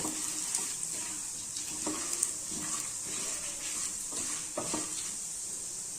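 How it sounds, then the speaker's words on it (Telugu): Halved dried red chillies fry in hot oil with a steady, bright sizzle, broken now and then by soft scrapes and taps of a spoon against the pan. "ఎండుమిర్చి అనేవి ఇలా హాఫ్ పీసెస్గా చేసుకుని వేసుకోండి, తొందరగా ఫ్రై అవుతాయి."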